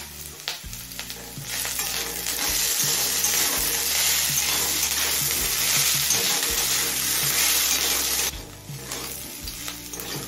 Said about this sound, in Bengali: আদার কাঁচা গন্ধ চলে যাওয়া পর্যন্ত কষিয়ে নিয়েছি